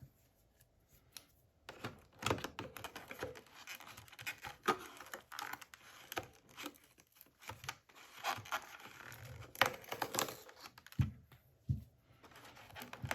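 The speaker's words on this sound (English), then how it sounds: "I've got to use my scissors this time." Scissors snip and rustle through small advent calendar packaging holding jewellery, a quiet run of irregular close clicks, scratches and crinkles, with a couple of sharper snaps near the end.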